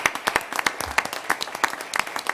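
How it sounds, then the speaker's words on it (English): Scattered applause from a small audience at a county commission meeting, a sparse uneven patter of individual claps from a few people in a room. "I want to give Wesley Richardson a round of applause."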